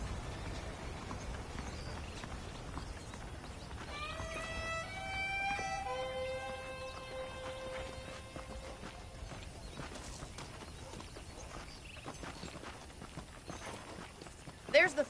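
Horse hooves clip-clopping at a walk in the Red Dead Redemption video game, a steady soft rhythm under background game ambience and music, fairly close.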